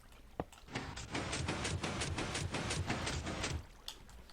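A Minecraft waterfall pours in a steady rushing wash for about three seconds, starting abruptly and cutting off, with a couple of faint clicks before and after.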